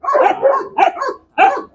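Dog barking defensively, three close, loud barks with a growly edge in quick succession, separated by brief silences.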